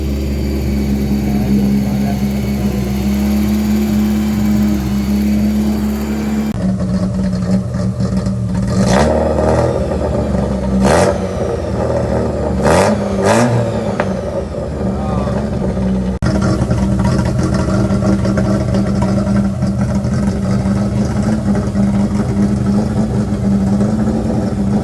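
A carburetted Volkswagen Golf Mk1 engine idles with a slight misfire, a steady loud mechanical drone with some unevenness and a few sharper bursts in the middle.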